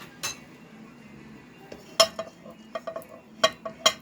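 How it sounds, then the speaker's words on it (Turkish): A metal spoon stirs yogurt in a bowl, giving sparse, sharp clinks and scrapes against the dish, with quiet gaps between the louder taps near the end. "yoğurdumu iyice karıştıracağım"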